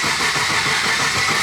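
An LS3-swapped Pontiac Solstice engine cranking and catching, a loud, steady, close mechanical roar with rough low-end pulsing throughout.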